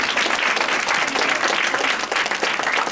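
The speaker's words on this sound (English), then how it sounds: "Let's give ourselves a beautiful round of applause for being here tonight." Dense, sustained applause from an audience at an evening youth leadership celebration, steady and loud throughout with no gaps.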